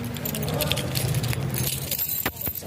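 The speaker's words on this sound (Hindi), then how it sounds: "एक डोर लॉक हो चुका है, अब करते हैं दूसरा" Keys jangle and rattle up close in repeated bursts while a main door is being locked, with a car engine faintly running in the background.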